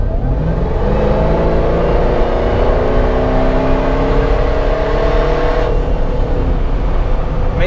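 LT4 supercharged Jeep Wrangler Rubicon accelerating hard on a road to pass traffic, a loud, steady engine roar with rising pitch sweeping upward throughout, no talking.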